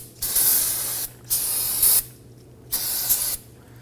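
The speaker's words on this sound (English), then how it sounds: "go ahead and grab your can of spray solvent" Three long hissing bursts of aerosol brake-cleaning solvent sprayed on a 2003-2014 Volvo XC90 front brake caliper, each about a second, separated by short pauses, close and loud over a faint low hum.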